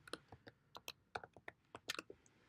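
Typing on a computer keyboard while entering a spreadsheet formula, a quick irregular run of soft, close key clicks with no voice over it.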